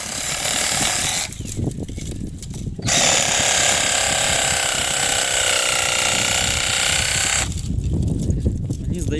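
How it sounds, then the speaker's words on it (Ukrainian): A LEADER cordless reciprocating saw cuts loudly and steadily for several seconds, its blade struggling in the material, with short breaks in the buzzing at the start and near the end. "чомусь мені здається, що пила хоче різати, а полотно просто не ріже"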